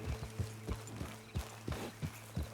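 Horse hooves clip-clop at a steady walking rhythm in Red Dead Redemption 2, fairly faint, with a low steady hum beneath.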